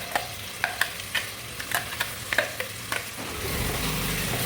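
Spice paste with a bay leaf and a cinnamon piece goes into hot oil for methi matar malai. A string of sharp spoon scrapes and taps comes first, then a broad, steady sizzle swells up near the end.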